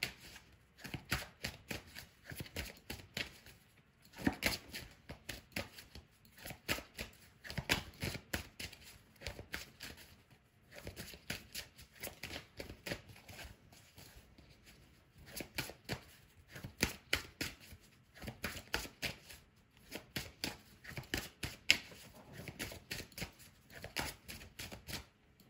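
Tarot cards shuffled repeatedly in close, quiet bursts of rapid riffling flutters, pausing briefly between rounds before starting again, with no voices.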